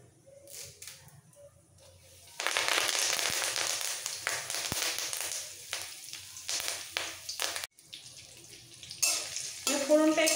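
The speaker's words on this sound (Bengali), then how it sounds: "ফোড়নটা একটু ভেজে নেব" Curry leaves, a pinch of asafoetida and tempering spices hit hot oil for masala dosa, bursting into a loud crackling sizzle with sharp spits and pops that flare and settle, followed by a few stirring scrapes.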